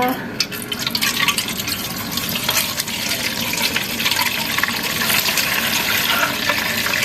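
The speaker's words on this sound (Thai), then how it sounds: "พอมันเย็นแล้วเราก็มากรองเอาแต่น้ำนะคะ" Cooled butterfly pea flower water is strained for a homemade shampoo with aloe vera. Liquid splashes and trickles steadily through a strainer up close, with a faint murmur of a voice in the background.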